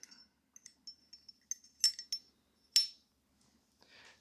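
Metal firing pin sliding into the bolt carrier of a Colt AR-15A4 rifle, a quiet series of small metallic clicks and clinks with two brighter ticks near the middle, close and isolated.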